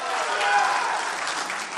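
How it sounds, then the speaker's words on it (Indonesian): Continuous audience applause in a convention hall at the 2024 Aceh gubernatorial public debate, a dense, even wash of clapping from a large crowd. "Mari kita berikan tepuk tangan untuk seluruh pasangan calon"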